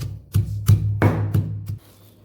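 A pestle pounds garlic and chili paste in a mortar in a home kitchen, giving five dull, heavy thuds at an uneven pace, close up and alone, followed by quiet.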